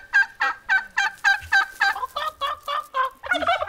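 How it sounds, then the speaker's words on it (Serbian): A turkey gobbles in a quick series of about a dozen loud, rhythmic calls, close and clear with no talking over them. "To je ćurka."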